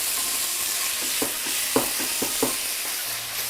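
Lean ground beef browns in a pan with a steady hiss of sizzling, broken by soft scraping taps as it is stirred, close and moderately loud.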